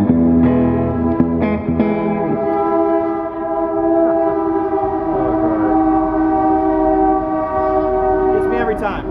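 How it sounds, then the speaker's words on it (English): A train horn sounds loud and close, with long sustained tones over rumbling rail noise and strong harmonics through most of the stretch, as the train passes. "Hear that train coming?"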